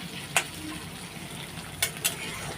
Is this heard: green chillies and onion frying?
yes